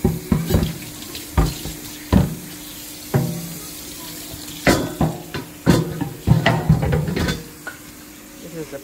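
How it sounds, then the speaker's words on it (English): Tap water running into a kitchen sink while dishes are washed, bursts of splashing and clatter starting and stopping irregularly at close range. "Still washing dishes."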